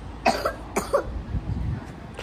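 A child coughs twice in quick succession, short close bursts followed by quiet background.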